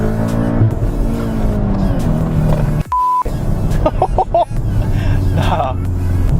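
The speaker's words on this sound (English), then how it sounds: "Let's do a third gear pull in this." A 560bhp VW Golf R accelerates hard in third gear, its engine loud and close, the pitch climbing steadily. A brief shift-like break interrupts it midway before the roar picks up again.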